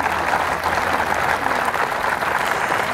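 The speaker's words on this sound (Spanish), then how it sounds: "le mandamos las buenas ondas con un fuerte aplauso a Betty" A loud, dense round of applause from a gathered audience, sustained and even throughout with a faint crowd murmur underneath.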